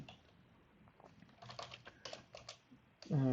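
Typing on a computer keyboard during a Python test-automation coding session, with quick irregular key clicks in bursts and a louder clatter at the end.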